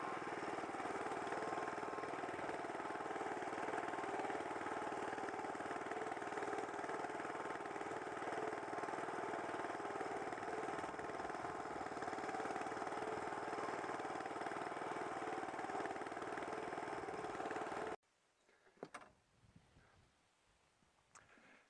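An Allett Classic cylinder mower scarifying a lawn with the grass box fitted runs as a steady, close engine drone with a whirring reel for most of the time, then cuts out, leaving faint handling clatter.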